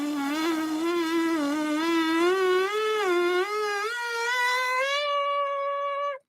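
A trumpet lip buzz exercise played as intended: a close, reedy buzz climbs in wavering steps to a higher pitch, holds there briefly, then stops abruptly.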